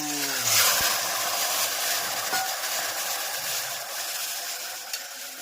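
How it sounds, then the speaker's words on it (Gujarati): Tomatoes hit hot oil with cumin and fenugreek powder for an undhiyu-style vegetable dish, setting off a steady, close sizzling hiss that runs through the whole stretch with no voices. "અને ટામેટાનો વઘાર"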